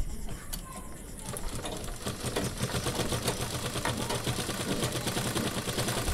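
A sewing machine stitches a wall pocket made from old trousers, running in a fast, steady, rattling chatter that picks up after the first second and continues close and unbroken.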